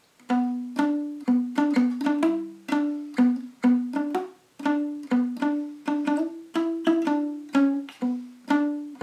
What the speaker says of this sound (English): For palm muting, you would try to get this part of your hand right on the edge of the bridge